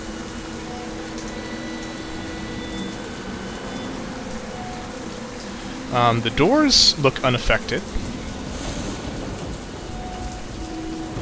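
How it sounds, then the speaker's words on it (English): Steady rain falls throughout in the video game The Path, a constant wash with a low rumble like distant thunder, while someone talks over it in the middle. "You can hear the sound of rain and see little bits of rain across the screen every now and then."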